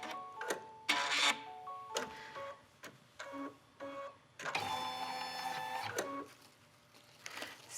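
An embroidery machine stitching down a leather bag strap, with a stuttering series of mechanical whirs and clicks that settles into a steady, close buzzing run before stopping.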